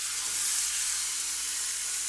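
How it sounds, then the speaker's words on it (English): Steady, close sizzling of chicken breasts searing skin side down in a hot cast iron pan, a bright continuous hiss with no talking. "And that sizzle is exactly what you're looking for. That's how you know your cast iron is hot enough."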